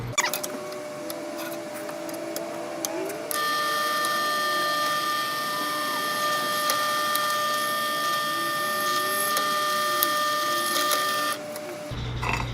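A drill bores holes in the legs of a steel trailer side rail for a Harley Sportster 1200 trailer, with a steady high motor whine held for several seconds between quieter stretches of shifting pitch.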